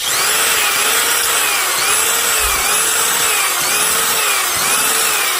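A power tool spins a bit locked in its chuck to clean glue out of a hole in a wood workpiece, giving a steady loud whir with a slight wavering pitch, running continuously with no voices.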